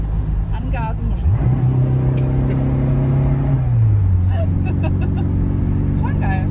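Škoda 110 R vintage car accelerating on an oldtimer rally, heard from inside: a loud engine drone whose pitch climbs, holds, then shifts as gears change, with people talking over it.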